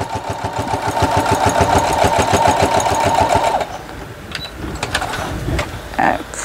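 A sewing machine stitches a straight seam on a quilted pillow, running in a fast, even rhythmic chatter up close for several seconds before stopping, followed by faint handling noises.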